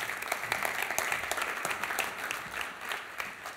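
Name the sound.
audience round of applause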